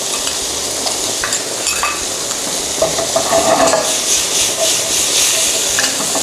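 Grilled seafood sizzling loudly in a pan as butter is added, a continuous dense hiss and crackle with stirring and faint pan clatter, close and steady.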